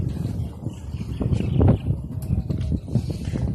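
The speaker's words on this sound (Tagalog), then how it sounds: "Sobrang mahangin lang dito." Gusty wind on Negros Island, Philippines, buffets the microphone with low rumbling bursts, loudest in the middle, steady and close throughout.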